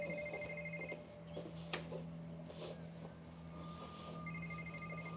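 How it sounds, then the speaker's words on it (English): A telephone rings in a crime show, two repeated electronic ring bursts at the start and end, faint beneath a soft background hum, with no talking. "Dude, your phone, you gonna get that?"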